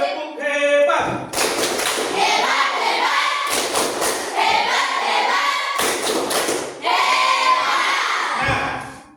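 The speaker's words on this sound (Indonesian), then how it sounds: "Tepuk hebat untuk kita semua." Group clapping in a church or classroom lesson, several bursts of rhythmic, patterned hand claps in unison, loud and close, separated by brief pauses, with a voice heard briefly at the start.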